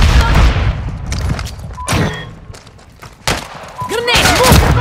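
A grenade goes off in Modern Warfare III's War mode: loud booms and thuds punch through chaotic battlefield noise, with gunfire, debris and shouting voices around the blasts.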